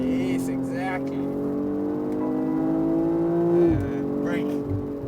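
A BMW M240i accelerates hard on the Dubai Autodrome circuit, its engine note climbing steadily for several seconds before a sudden drop as the throttle eases, heard from inside the cabin with brief voices nearby.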